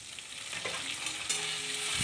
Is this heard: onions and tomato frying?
yes